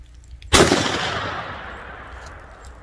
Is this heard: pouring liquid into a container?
no